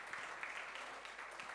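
Congregation clapping during a Telugu communion church service, a soft, steady wash of many hands, somewhat distant and fairly faint, without any talking.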